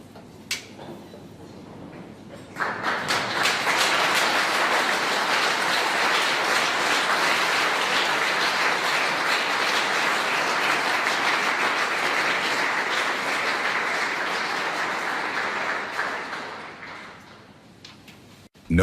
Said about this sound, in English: William suddenly stood and clapped like everyone else.